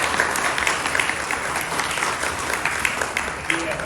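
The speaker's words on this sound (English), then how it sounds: "Let's give a round of applause for this grand opening." A crowd applauds at the 2025 grand opening of a Yogi Bear's Jellystone Park RV Resort, dense, sustained clapping from many hands filling the whole stretch, close and loud.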